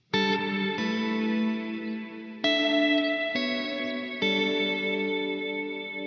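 An electric guitar played through a Walrus Audio Slö reverb pedal rings out in long sustained chords, each new strum blooming into a lush, shimmering wash of reverb that hangs and overlaps, loud and alone without talk.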